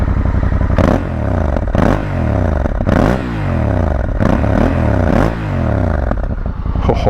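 Honda Africa Twin motorcycle engine with the exhaust baffle fitted, idling with a deep rumble and then revved repeatedly in rising and falling swells, loud and close with no talking.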